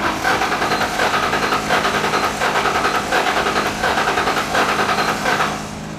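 An old Ford Mustang GT, once abandoned in a field, runs with a steady, loud, close engine drone that pulses gently throughout, then tapers slightly at the end.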